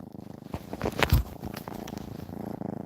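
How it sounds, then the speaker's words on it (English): A pet cat purrs close to a laptop microphone, a soft rhythmic rumbling that rises and falls with each breath, steady and alone for a few seconds. "we can hear your purring on there"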